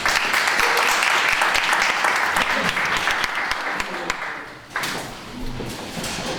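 An audience at a 2015 Brooklyn entrepreneurship and reentry forum applauds with loud, dense clapping that fades after about four seconds, leaving scattered room noise and a few late claps.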